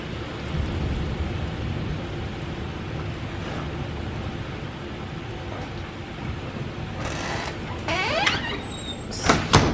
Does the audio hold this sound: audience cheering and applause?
no